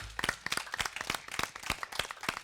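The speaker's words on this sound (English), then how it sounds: "can we please give a round of applause to our AV production team?" Scattered hand claps from the crowd at a keto symposium as thanks go to the AV production team, sparse and uneven, fairly quiet and distant.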